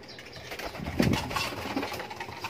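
Young racing pigeons coo softly up close, with a brief burst of wing flapping near the middle, over a low background hum.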